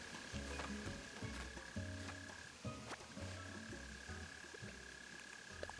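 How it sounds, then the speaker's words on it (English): In Animal Crossing New Horizons, a mole cricket hidden underground gives off a rhythmic, repeated buzzy chirp in pulsing bursts. The sound is faint and muffled beneath a quiet game backdrop. "I think that the mole cricket's right here"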